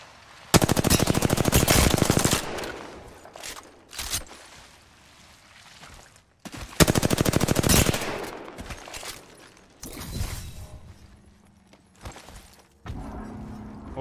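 Rapid automatic gunfire in a competitive shooter game, two long loud bursts of fast repeated shots separated by shorter volleys and quieter gaps, sharp and close.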